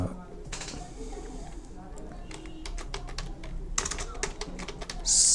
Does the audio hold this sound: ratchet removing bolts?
no